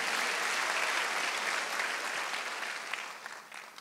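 A church congregation at a Wednesday worship service breaks into dense, sustained applause that holds steady, then thins out and fades toward the end, with no voices over it.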